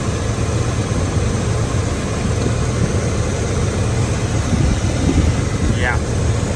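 A 454 V8 engine runs at a fast, high idle with a steady, dense low rumble and drone that holds close and loud throughout without any change in pace.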